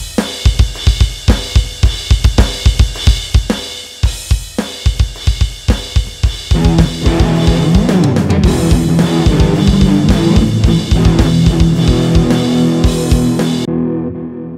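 Electronic drum beat from a Flamma FX20 modeling headphone amp with punchy kicks and snares, steady and loud, then thick distorted guitar chords join and ring out over the drums.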